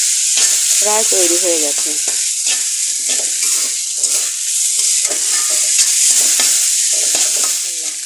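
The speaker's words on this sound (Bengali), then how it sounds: "মশলা দেওয়ার পরে ভালো করে নেড়ে চেড়ে দেব" Noodles being stirred and fried with spices in a pan give a steady, loud sizzle with scraping stirs throughout, while someone speaks briefly over it near the start.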